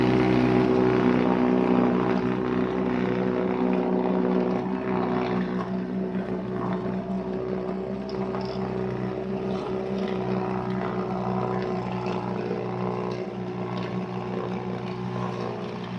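Ryobi 21-inch 40-volt brushless electric snow blower running steadily outdoors over old cement, a loud continuous motor drone with a whirring, airy roar that eases slightly after the first few seconds and holds constant.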